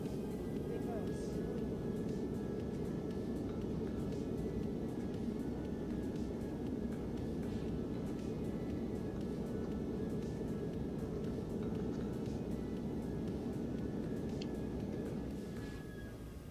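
A ToLiSs A321 airliner in X-Plane 11 roars under reverse thrust on landing, a steady loud broadband rumble with a faint tone above, fading slightly at the end, with cockpit voices mixed in.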